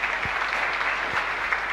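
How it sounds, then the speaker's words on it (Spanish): A church congregation claps steadily through a live Mass at Sagrada Familia in Luque, a soft, even wash of applause with no voices over it. "Fuerte aplauso para usted entonces."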